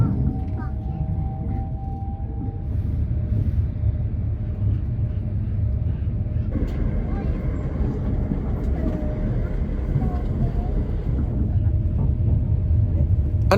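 Inside a Javelin high-speed commuter train running between Ashford and Canterbury, a steady low rumble of wheels and motors fills the cabin, with faint tonal whines rising and falling and a voice talking over it.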